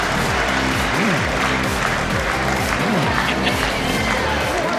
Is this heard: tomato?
no